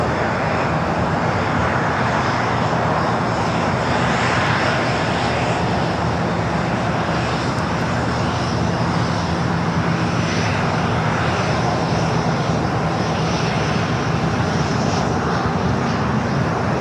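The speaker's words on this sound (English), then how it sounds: "That's the Dreamliner 787-10 Dreamliner coming in from Newark." A Boeing 787-10 Dreamliner arriving from Newark lands at LAX, its engines giving a loud, continuous broadband roar that holds steady across the whole stretch.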